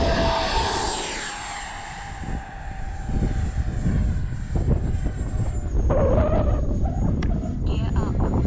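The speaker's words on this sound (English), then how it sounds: "But she's a good flying jet." An FMS Futura V3 RC model jet, flown as a Tomahawk scheme, whines steadily overhead with a high turbine tone and rushing air that swells and fades as it passes, with someone talking over it.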